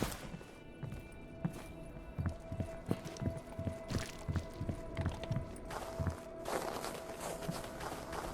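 Rhythmic clip-clop of horse hooves on a hard surface in the video game S.T.A.L.K.E.R. G.A.M.M.A., steady and fairly close, with a few louder thuds mixed into the walking beat.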